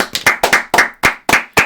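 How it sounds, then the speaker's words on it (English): Sharp hand claps ring out close and loud, roughly eight in a quick uneven rhythm, with no voices over them. "clap it up for Liam Hendricks again"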